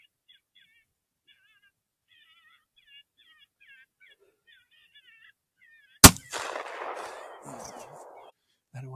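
A single loud gunshot cracks out during a red fox hunt, sharp and close, after a stretch of quiet broken by thin bird calls, followed by rustling and movement.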